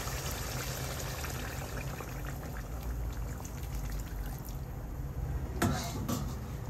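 Hot water pours steadily into a pot of beef cooking on the stove, giving a continuous, fairly soft liquid rush close by with a few drips and splashes toward the end.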